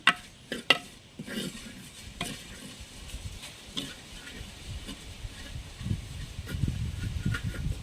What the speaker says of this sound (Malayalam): എല്ലാം കൂടെ ഒന്ന് ഇളക്കി കൊടുക്കാം